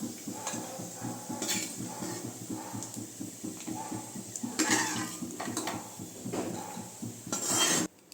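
Roasted nuts in ghee scraped and stirred in a metal pan with a spoon while being moved onto a plate for aval laddu, giving repeated close clinks and scrapes of metal on metal in a steady rhythm.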